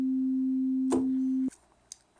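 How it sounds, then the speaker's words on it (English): A Yamaha DX7 synthesizer on its blank preset holds a single steady sine tone for about a second and a half, loud and pure, then cuts off abruptly, leaving faint noise. "we're all at this blank preset that is just a sine wave"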